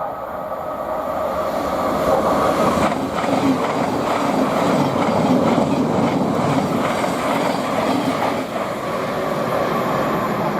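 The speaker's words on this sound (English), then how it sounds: "Now passing by, we've got a Thameslink service from Cambridge to Brighton, 700-122" Thameslink Class 700 unit 700-122 on a Cambridge to Brighton service rolls past at Potters Bar on the East Coast Main Line, a loud sustained roar of wheels and rail rumble holding steady for about ten seconds, no voices.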